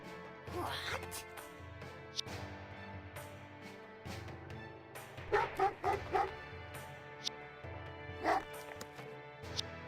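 Wolves in the fantasy strategy game Age of Fear: The Free World bark and yip in a few short, loud bursts over background game sound, with a voice talking nearby.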